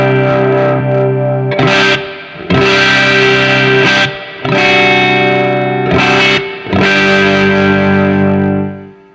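Electric guitar played straight into a cranked Magnatone M8 amp with no pedal, a loud, thick overdriven tone ringing out in sustained chords broken by a few brief gaps.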